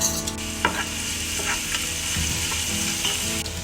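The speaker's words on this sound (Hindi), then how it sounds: "तेल गरम हो गया है। अभी मैं ये कटे हुए अनियन इसमें ऐड कर रही हूँ।" Chopped onions frying in hot oil in a pan while Manchurian fried rice is made, giving a steady close sizzle throughout with a few scraping stir clicks.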